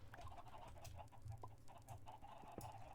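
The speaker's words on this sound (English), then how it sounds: "I just heard a chicken lay an egg." Soft clucking from a Minecraft chicken, a few short repeated clucks at low volume over a faint background hum.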